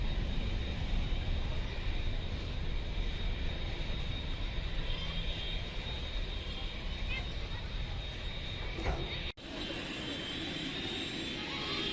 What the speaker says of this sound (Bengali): চলে যাচ্ছে ইথিওপিয়ান এয়ারলাইন্সের বিমানটি